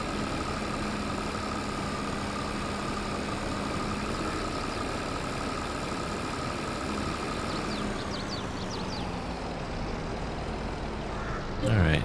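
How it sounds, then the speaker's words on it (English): A small tractor's engine labors steadily while pulling a loaded wagon on a farm, a continuous low drone that holds loud throughout, shifting pitch slightly near the end before a brief louder burst. "Hopefully this little tractor can pull this wagon."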